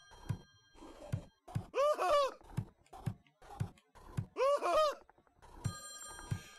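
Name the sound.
telephone ringing in Friday the 13th: Killer Puzzle video game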